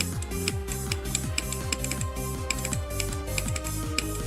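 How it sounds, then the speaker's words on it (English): Rapid clicking while playing Geometry Dash, sharp ticks in a quick irregular rhythm over the game's bouncy, pulsing electronic music, moderately quiet with no talking. "The clicking sounds are so satisfying."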